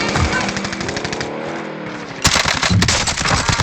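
Rapid automatic gunfire in the video game Call of Duty Warzone, with dense bursts of shots, a brief lull, then another loud volley, all close and forceful.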